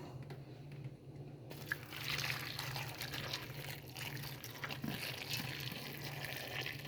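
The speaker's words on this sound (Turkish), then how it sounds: "suyu kaynatıp üzerine döküyoruz" Freshly boiled hot water pours over potatoes in a pot, a faint, steady splashing and trickling pour that runs continuously at close range.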